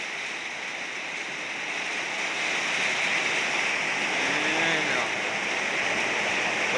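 Rain pours steadily onto a house, a dense, even hiss of falling water that holds constant throughout, with a faint voice-like tone briefly surfacing underneath.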